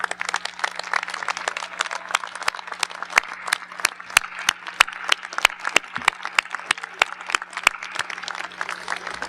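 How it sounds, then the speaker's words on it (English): Scattered, distinct hand claps from a commencement audience of a college of agriculture, a sparse irregular patter of individual claps over a quiet room with a steady low hum. "do you think it'd be all right to kind of stand up, turn around, and clap at them?"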